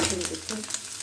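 Grated coconut dropped into hot oil for an Onam ginger curry, frying with a steady crackling sizzle and faint stirring, close and continuous.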